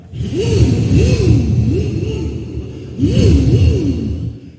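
A performer's voice mimics a motorcycle at a reunion sports-day show, with loud rising and falling engine-like revs in two rapid phrases, close and unaccompanied.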